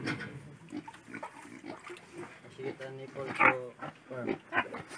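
Pigs grunt and squeal in their new farm pen, short bursts mixed in with people talking nearby.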